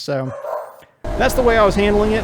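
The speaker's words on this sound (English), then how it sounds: "Excuse the dogs in the background" Corgis barking and yipping in the background, a few sharp high barks and a whining yelp around a man's speech.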